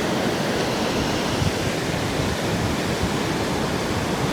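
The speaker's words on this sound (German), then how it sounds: "das Meer ist heute wirklich sehr wild" Rough sea waves break on a Bulgarian beach in a dense, steady roar of surf and spray, loud and close, with no voices over the continuous wash.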